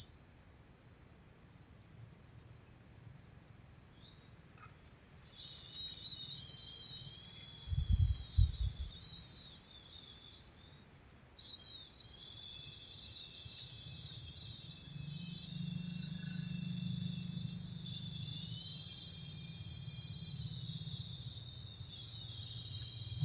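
Wild cicadas caught in the countryside in June: a steady, high buzzing drone runs throughout, swelling and shifting in pitch at times, over a faint low rumble with a brief low thump near the middle.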